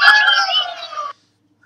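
Cartoon bird squawks ring out from the Angry Birds game on a Motorola Cliq XT phone, a loud, bright, chattering cry lasting about a second before cutting off to silence.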